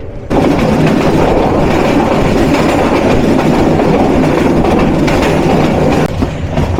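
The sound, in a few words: Kishoreganj Express train running toward Narsingdi station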